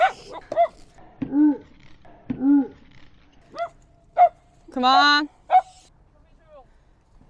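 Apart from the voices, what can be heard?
dog barking and whimpering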